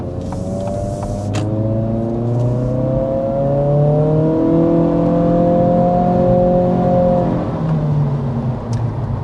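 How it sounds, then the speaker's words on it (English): A 2026 Acura Integra in sport mode accelerates hard from inside the cabin, engine note climbing through rising, gliding tones and shifting back before climbing again, steady and fairly loud. "I popped it into sport mode there for another acceleration."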